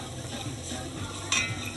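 Curry chicken stirred in a pot over low heat with a little oil, soft scraping and gentle sizzling up close, with a brief sharp utensil clink near the end.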